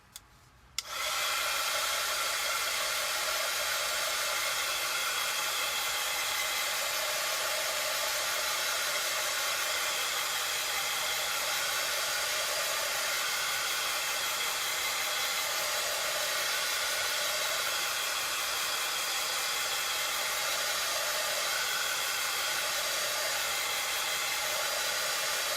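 A hair dryer blows steadily to dry a freshly painted stencil, starting abruptly after a brief click and running as a loud, even airy whoosh for the full stretch, with no talk.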